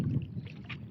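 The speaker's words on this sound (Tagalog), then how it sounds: "nagsasagwan lang kami kasi sira yung makina" Oars paddling a small boat at sea, its engine broken: a brief, low splash and gurgle of water against the hull with soft wind noise, close and faint, no voices.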